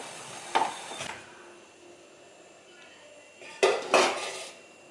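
A metal lid lifts off a cooking pot of steamed kozhukattai, giving two sharp clanks followed after a pause by a louder pair of clattering metal knocks, with no talk.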